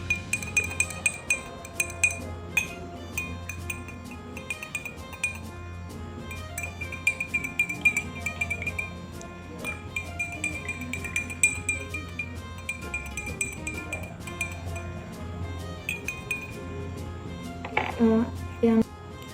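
Glass containers of test solutions for a natural-indicator drug analysis clink and rattle as they are shaken, giving scattered light taps and chimes throughout with a livelier burst near the end, while people talk nearby.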